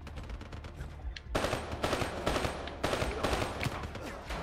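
A burst-fire gun in the Black Ops 3 campaign fires repeatedly. Rapid clusters of sharp, loud shots come in quick successive bursts with short gaps between them, close and dominant over faint background noise.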